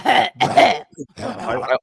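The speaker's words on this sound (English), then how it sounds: "I will be coughing profusely in a moment." Close-up coughing into a microphone, a few loud, rough bursts in quick succession with a short gap between them.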